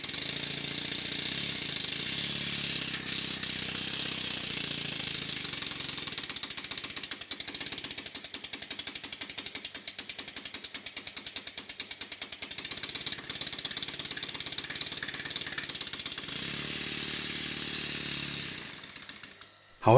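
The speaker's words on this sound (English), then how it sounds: "It's quite difficult to stop the engine by gripping the flywheel." A Stuart model steam engine runs with a fast, steady mechanical clatter and hiss, loud and close, continuing without talk before slowing briefly near the end.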